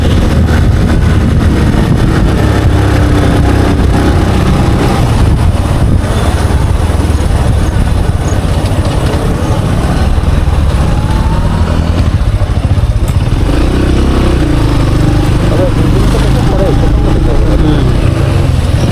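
A motorcycle ridden on a hilly mountain road gives a continuous loud engine drone with wind rush throughout, close and steady for the whole stretch, with a voice speaking over it.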